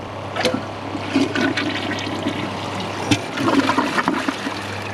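A 2015 Kohler Cimarron toilet giving a second flush during a clog performance test, a loud close rush of water with gurgling surges and a swirling trickle as the bowl drains.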